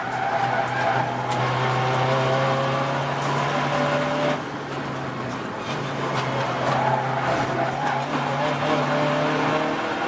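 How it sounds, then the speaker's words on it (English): Race cars lapping the Brands Hatch GP circuit in a 750MC Club Enduro, including TT TDIs, with a loud sustained engine drone that keeps shifting pitch as cars pass close by, plus some tyre noise. "So here comes the number 1 car onto his final lap with 12 seconds still left on the clock."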